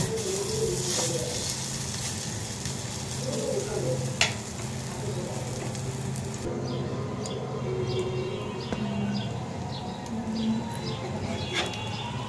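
Prawn fritters sizzle steadily in a pan of hot oil as they are turned over, a constant soft crackle with a light clink and faint bird calls in the background.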